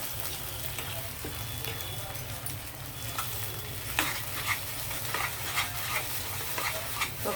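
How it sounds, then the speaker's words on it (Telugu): Nalleru (cactus leaf) chutney being stirred and slowly cooked in oil in an Andhra-style kitchen, giving a steady soft sizzle with scraping spoon strokes throughout, fairly close and continuous with no talking. "ఒకసారి ఇలాగ ఒక 5 మినిట్స్ మనం ఇలా కలుపుతూ నూనెలో మగ్గనివ్వాలండి"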